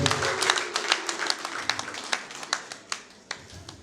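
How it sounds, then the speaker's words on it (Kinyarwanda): Crowd applause at a Rwandan traditional engagement ceremony: a dense patter of many hands clapping together, with sharper individual claps standing out and the clapping gradually thinning toward the end. "amashyi menshi cyane"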